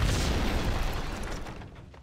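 A loud, booming explosion in Max Payne 2 as an explosive-rigged house blows up, a broad rumbling burst that slowly fades out over a couple of seconds.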